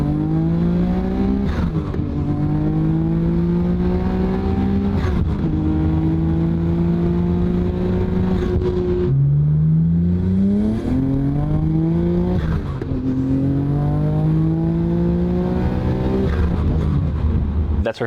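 Tuned turbocharged car with an HKS stroker kit and PRP trigger kit and coils, accelerating hard through the gears. The engine climbs repeatedly with clear shifts between pulls, loud and close, with no voices.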